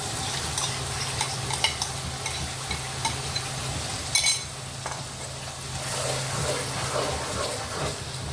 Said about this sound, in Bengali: মশলাটা একটু ভাজা হবে